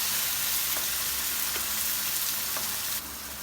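Onion and tomato sautéing in a pan for a Filipino vegetable dish, a steady close hiss of frying with a few soft stirring taps, the sizzle easing slightly near the end.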